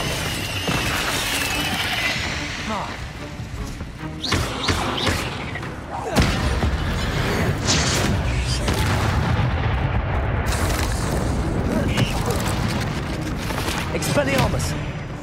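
Expelliarmus and other spell effects crack and thump repeatedly in Hogwarts Legacy combat, with booms and shattering bursts layered densely over continuous game noise and voices.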